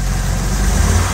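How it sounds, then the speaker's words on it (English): A 1957 Mercedes 190 SL engine running up close, with a steady, loud, low rumble and a slight rise in intensity toward the end. No voices. "you gotta hear the exhaust note and hear this thing start up"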